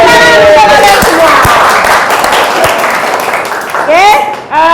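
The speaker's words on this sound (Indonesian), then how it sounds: "tepuk tangan untuk kalian semua" A class applauds at the close of an Indonesian-language lesson, a steady burst of clapping that fills the room before fading, with voices chattering over it.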